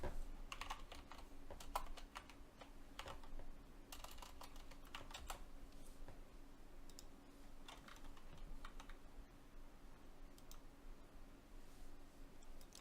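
Rapid typing on a computer keyboard, irregular bursts of clicky keystrokes close up over a quiet steady hum, no talking.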